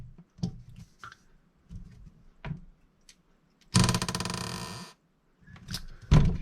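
A rebound hardness tester (THL-500) strikes scissors pressed on a flat plate: several dull, soft knocks scattered over a quiet background, with a burst of rapid ratcheting clicks in the middle and a sharper knock near the end.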